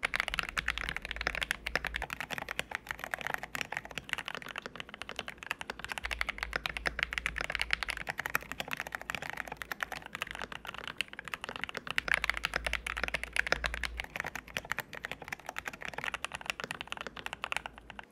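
Mechanical keyboard typing on an MK870 with different switch and keycap pairings, a steady close run of clacky keystrokes throughout with no talking.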